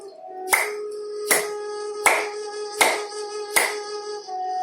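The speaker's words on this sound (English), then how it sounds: "Acupressure can be also by clapping." Five evenly spaced hand claps for acupressure during a yoga breathing practice, sharp and close, ringing slightly over a steady low tone in the background.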